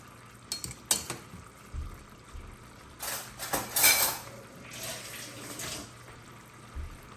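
Spoon and pans clinking in a home kitchen while fried barbecue chicken cooks, a few scattered metallic clatters and clinks with short running-water-like rustles between, fairly quiet and close.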